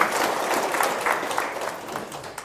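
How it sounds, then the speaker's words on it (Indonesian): A seated audience at a talk claps together in sustained applause. The clapping is dense and lively at first and eases slightly toward the end. "Tepuk tangan dong."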